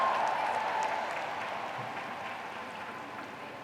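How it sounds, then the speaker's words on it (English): A large audience at a peace summit claps after a media facade display, a soft, distant wash of applause that slowly fades over a few seconds. "Please give another great round of applause for the media facade."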